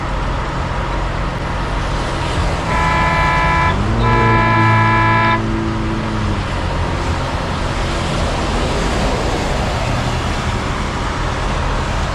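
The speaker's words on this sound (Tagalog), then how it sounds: "Binubusinahan siya ng binubusinahan." Car horns honk at a slow car in roadway traffic: two sustained blasts in quick succession, each about a second long, over a steady rumble of engines and road noise.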